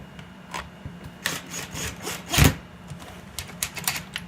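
Phillips head screws being driven into a Dell 2007WFP monitor frame by hand, quiet intermittent scraping and ratcheting rubs with one louder grinding twist near the middle, close and alone without talk.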